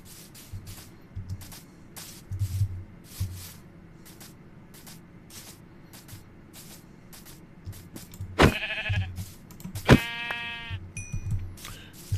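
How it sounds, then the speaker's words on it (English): A Minecraft sheep bleats a couple of times amid rhythmic footstep tapping in the video game, short nasal cries standing out near the end over quiet background play. "Oh, look. There's another sheep."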